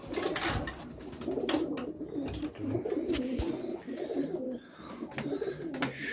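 Pigeons cooing softly and repeatedly in the background, low throaty calls overlapping with faint rustling and ambient noise.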